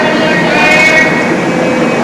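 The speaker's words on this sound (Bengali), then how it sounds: "ট্রেন তো এবার এখন চলে যাবে মুম্বাইয়ের দিকে" A passenger train at a platform of Manmad Junction, a loud steady rumble of the train running close by, with no speech over it.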